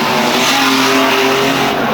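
Stock car racing at Arlington on a gala night, with a roaring pack of engines at full throttle as one car is pushed round the turn, loud and dense from start to finish.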